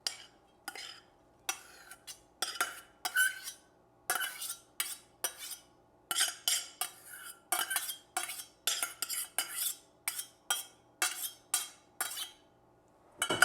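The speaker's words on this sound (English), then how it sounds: "And then we're going to add in our cooked quinoa." Cooked quinoa goes into a tabouli salad bowl with a burst of sharp utensil clinks and scrapes, spoon knocking against the bowl in quick irregular strokes with brief pauses.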